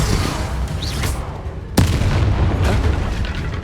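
A Bombarda spell explodes in the Hogwarts Legacy video game, one sharp loud blast with a booming tail rising out of a busy combat soundscape.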